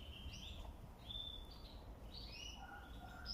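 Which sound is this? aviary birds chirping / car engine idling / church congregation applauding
aviary birds chirping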